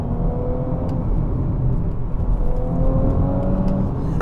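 An Audi S4 Avant estate car's engine pulls hard under steady acceleration, its rising tone climbing over continuous road and wind noise throughout.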